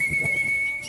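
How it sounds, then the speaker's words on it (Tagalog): A man whistles to call tame sparrows, a single steady high-pitched tone held for most of a second over faint background noise, with no speech. "pumailan lang ang kanyang sipol"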